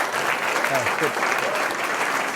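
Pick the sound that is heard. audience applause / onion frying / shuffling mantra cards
audience applause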